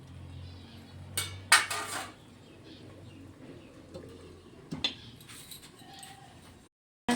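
A metal lid clatters onto a curry pot in a home kitchen, two or three sharp clanks and a later knock over a quiet room background, with faint bird coos nearby.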